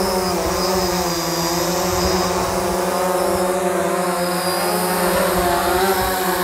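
A DJI Phantom 4 Pro quadcopter drone landing after a long flight on a drained battery, its rotors giving a loud, steady whine with sustained high-pitched buzzing from start to finish.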